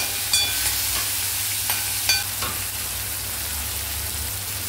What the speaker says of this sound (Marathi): आता आपण हे टोमॅटो छान शिजवून घेणार आहेत फोडणीमध्ये